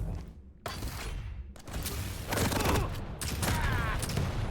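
A rocket fight in an arena shooter duel: repeated loud rocket launches and explosive blasts in quick succession, close and harsh, with mechanical clanks and shattering bursts between them.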